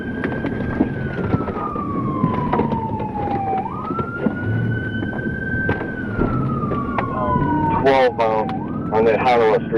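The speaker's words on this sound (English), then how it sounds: "The pursuit began on narrow streets, with sirens blaring and tires screeching as they closed in on the suspect" Police car sirens wailing during a high-speed pursuit on narrow streets, one siren sweeping slowly up and down while a second yelps rapidly near the end, loud and close over road and engine noise.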